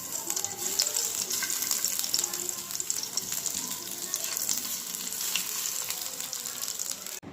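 Chapila fish coated in turmeric and salt frying in hot oil in a pan, giving a continuous close, even sizzle with light crackle that stops abruptly at the end.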